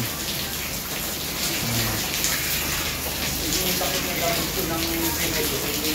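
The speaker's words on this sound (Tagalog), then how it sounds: "tumutulo ang kesame ng kusina namin" Water from a leaking kitchen ceiling splashing and dripping heavily indoors, a continuous wet patter with heavy rain outside and a voice talking over it.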